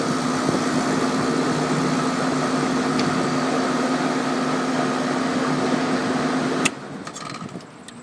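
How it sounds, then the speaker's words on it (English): A Trane 7.5 ton rooftop HVAC unit's blower runs with a steady, loud whooshing drone and a low hum, close by, then cuts out abruptly near the end leaving a quieter background with faint clicks. "I think there's the blower."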